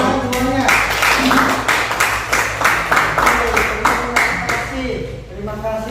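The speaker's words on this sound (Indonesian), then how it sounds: "silakan tepuk tangan semuanya." A class claps hands during a teaching session, producing rhythmic bursts of clapping roughly every half second, fairly close and loud, fading out near the end.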